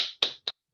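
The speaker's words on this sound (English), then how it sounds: "Can we give year 1 and year 3 a big round of applause?" Children at a school celebration assembly clap in short bursts of applause, a few quick crisp claps spaced apart and fading to near silence.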